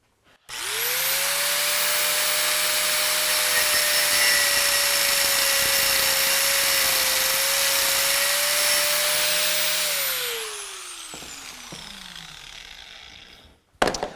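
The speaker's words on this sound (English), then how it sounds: "With my cutoff wheel on the angle grinder, you can do that" An angle grinder with a cutoff wheel slices through a metal bolt, a loud, close, sustained high-pitched whine and grind lasting about ten seconds before the motor spins down, with no talking.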